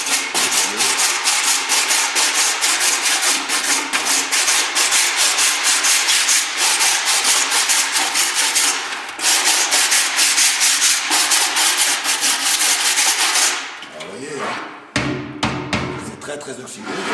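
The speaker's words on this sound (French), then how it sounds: "On va à la brosse déjà, une brosse métallique simple, on va le nettoyer." Simple steel wire brush scrubbing heavy rust off an oxidized metal side-table top, a loud, close, continuous rapid rasping that briefly pauses and changes near the end.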